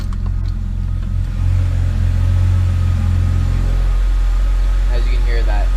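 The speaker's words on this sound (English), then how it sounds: "let me close the exhaust cutout." A BMW 328i engine with its exhaust cutout closed, running with a steady low rumble and mild revving close by, smoother and less throaty, under a voice talking throughout.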